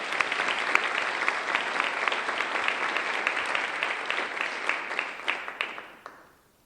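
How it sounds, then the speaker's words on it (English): Sustained audience applause at an academic celebration gathering, dense clapping from many hands holding steady for about five seconds before tapering off. "Let's give her a round of applause."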